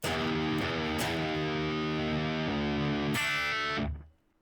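Heavily distorted electric guitar chords strummed in a few sustained hits on the three open high strings, ending with a final chord that is cut off abruptly.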